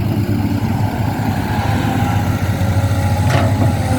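An Isuzu 6G diesel engine in a Kobelco SK200 excavator idles with a steady, close, low rumble, continuous and unchanging, with no talk over it.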